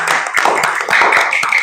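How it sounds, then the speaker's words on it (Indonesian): Hand clapping from a fourth-grade class, a cluster of sharp, close claps in quick irregular succession, loud and distinct against a quiet background. "Tepuk tangan."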